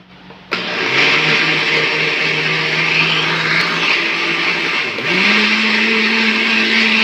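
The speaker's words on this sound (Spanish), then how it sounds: "De una vez le voy echando de a poquito el coco para irlo licuando ahí también" A blender whirs loudly and steadily as coconut pieces are blended with cooked chickpeas and milk, kicking on abruptly and dipping briefly in pitch midway before resuming its constant drone.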